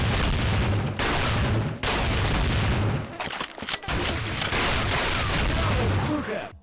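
Bots in a Half-Life mod blast away with loud, dense, continuous gunfire and booming shots, broken by a few short gaps, close and chaotic with a voice faintly mixed in.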